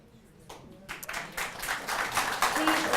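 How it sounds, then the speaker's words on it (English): Audience applause at a political debate between congressional candidates, clapping swelling from quiet to a steady, moderately loud patter of many hands over a few seconds. "Please hold your applause so we can get through as many questions as possible"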